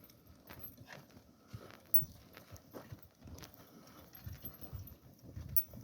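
A horse's hooves clop at a slow walking pace uphill on firm ground while it is in single harness, an uneven rhythm of soft thuds with a few sharper knocks, fairly close and quiet.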